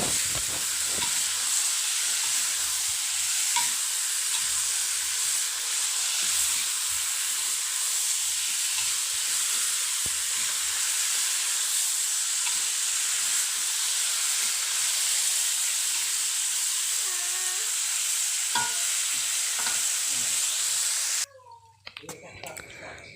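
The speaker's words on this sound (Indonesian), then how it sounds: "aduk-aduk atau bolak-balik agar semuanya boleh tercampur merata ya teman-teman" Jengkol and fried eggplant stir-frying in a pan give a steady loud sizzle and hiss, with occasional scraping of stirring, while someone talks over it; the sizzle drops away near the end.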